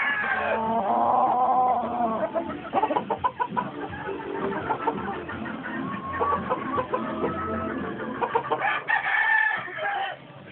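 Chickens cluck steadily while roosters crow now and then, several Sumatra and other gamefowl close by, with a dense, busy barnyard texture throughout.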